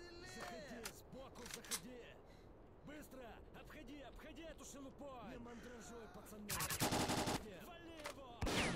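Gunfire in S.T.A.L.K.E.R.: Call of Pripyat, with rapid sharp shots and bursts throughout, some close and loud, a dense volley near the end, and someone talking over it.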